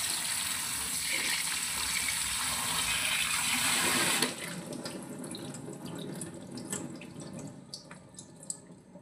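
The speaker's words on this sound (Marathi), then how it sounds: "तर यावर आपण थंड पाणी ॲड करूया." A steady stream of cold water pours into a bowl of cut potatoes for about four seconds, then stops abruptly, leaving quiet drips and light splashing.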